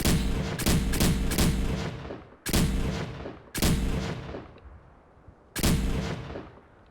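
Heavy booming shots from a fusion-core-powered weapon in Fallout 4 ring out in five loud blasts, the first a quick double, each with a long decaying tail and no voices over them.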